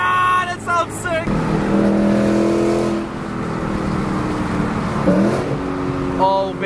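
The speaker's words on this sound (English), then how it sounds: "She's loud, baby. This thing sounds so nasty." Loud Ford Mustang S550 exhaust snarling through a couple of revs, rising and falling in pitch with sharp bursts at the start and end, close up and filling the scene.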